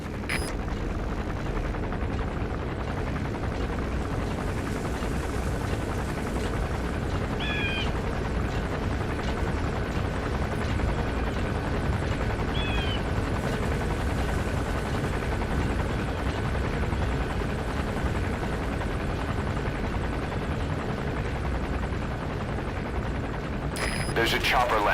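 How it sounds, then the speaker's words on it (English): Helicopter landing in Metal Gear Solid V, a sustained rotor whir and engine drone at moderate distance that continues for the whole stretch, with a few faint clicks and soft background game sounds. "There's a chopper landing."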